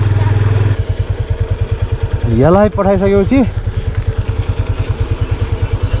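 An engine chugs in a fast, steady pulse close by on a snowy mountain road at the Baglung–Rukum border in Nepal, running throughout as a voice briefly speaks over it.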